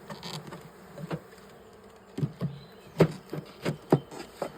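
Bees at a beehive, soft buzzing with several short, louder bursts as individual insects fly close past, over a quiet background.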